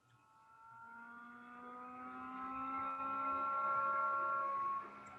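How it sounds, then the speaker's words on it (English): A motorcycle engine outdoors revs up with a steadily rising pitch over several seconds, then drops off, heard distantly and muffled as if through a window. "Somebody's got their motorcycle outside."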